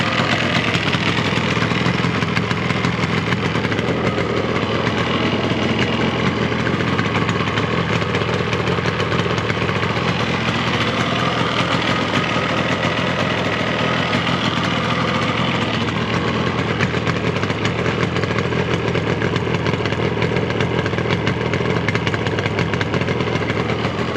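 A 1975 Yamaha RD350 motorcycle engine idles steadily and close by for the whole stretch, a continuous mid-pitched running drone without pauses or revving, and no one speaks.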